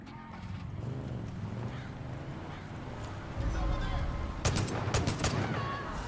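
Gunfire in the video game Far Cry 5, with a cluster of sharp shots near the end over a dense, busy game soundscape and steady background rumble; voices talk through it.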